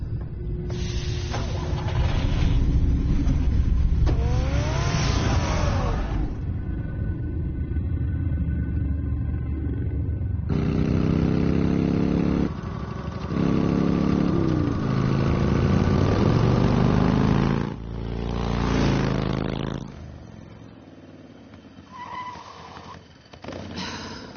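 A powerful engine drones and revs in a Batman video game as Batman's car runs, with long sustained roaring passes and swells rising and falling, then easing off near the end.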